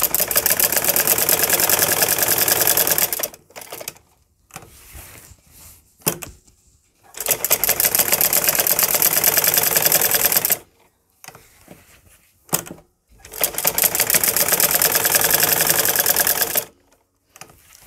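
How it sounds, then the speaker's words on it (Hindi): A sewing machine stitches a mountain-style mohri (cuff) design, running loud and close in long steady bursts broken by short pauses and a few brief stops and starts. "अब देखिए, हम यहाँ से अपनी सिलाई शुरू करेंगे और ये हम पहाड़ वाला डिज़ाइन इस तरह से बनाएंगे"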